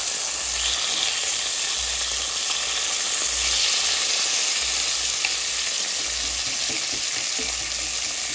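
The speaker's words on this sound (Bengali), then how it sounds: "সর্ষের তেলে এই কাতলা মাছগুলো এক এক করে ভালো করে এপিট ওপিট করে ভাজতে হবে।" Katla fish pieces fry in mustard oil, a loud, steady sizzle and crackle that continues throughout, with occasional faint stirring noises and no voices.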